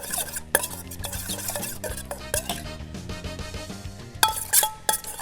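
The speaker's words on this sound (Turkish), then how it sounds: "Sosumu balzamik sirke ve fesleğen dibe çökmüştür diye şöyle bir kere karıştırıyorum" A spoon stirs a balsamic vinegar and basil salad dressing in a small dish, with close, quick metallic clinks and scrapes against the container in uneven bursts and no voices.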